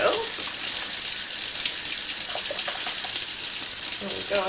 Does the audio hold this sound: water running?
yes